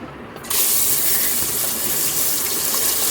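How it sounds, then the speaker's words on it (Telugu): Ground paste hits hot oil in a pressure cooker for a mutton curry, setting off a sudden, loud, continuous sizzle after a quiet half-second that stays steady to the end. "ఆయిల్ హీట్ ఎక్కాక మనం ఇందాక దంచి పెట్టుకున్న పేస్ట్ని యాడ్ చేసుకోవాలి."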